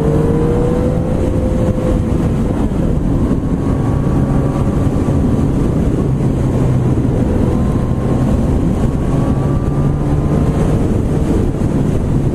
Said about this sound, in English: I'll just wind it up a little bit, accelerate. So straight away you can hear the noise, it's a lot more brutal, a lot more powerful